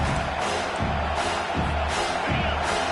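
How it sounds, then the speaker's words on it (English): Roaring stadium crowd at an American football game as the home fans get loud behind the defense on third down, a dense, steady wall of cheering and noise with no break. "Decibels rising as the crowd gets behind this defense on third down."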